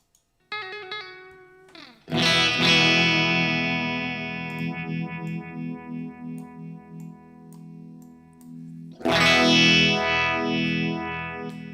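Electric guitar through the Univibe effect of a NUX Mighty Lite BT MK2 amp: a ringing chord that swells with a pulsing, throbbing wobble as it decays, then a second loud strum near the end, with no talking.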